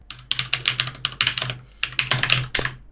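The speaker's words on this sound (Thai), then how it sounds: "โอ้โหดูเสียงคีย์บอร์ดดิทุกคน" Rapid computer keyboard typing during a Minecraft session, with close, crisp keystrokes clattering in quick bursts and a short pause midway.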